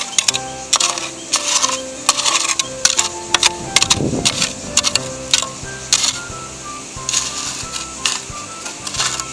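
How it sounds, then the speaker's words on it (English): Gemstone gravel scraped across the bottom of a clay pan, giving a steady run of close gritty scrapes and sharp clicks of small stones and rocks, with no talk. "It's just a case of gently scraping over and seeing what we find."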